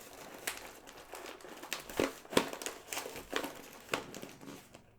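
Goldfish crackers packaging with a Star Wars design is crinkled and crackled up close, with steady rustling broken by several sharper crackling bursts, with no voice.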